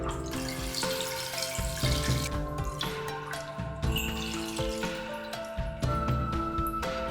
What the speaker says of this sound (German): Mit dem ganz heißen Wasser mehrmals spülen,